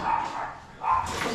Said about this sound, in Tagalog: Ang ingay pa ng mga aso na yan.